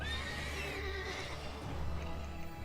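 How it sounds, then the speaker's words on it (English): Horse whinnying in the video game The Witcher 3: Blood and Wine, a loud, close, quavering neigh with faint hoof clops and game ambience underneath. "Come on, horsey, come over here."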